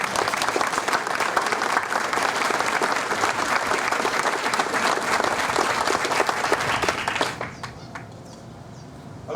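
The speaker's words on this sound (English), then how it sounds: "I think that round of applause should go on for another 20 minutes." Sustained applause from a large audience at a high school's fiftieth anniversary celebration kickoff, steady and dense for about seven seconds before tapering off to scattered claps and room quiet.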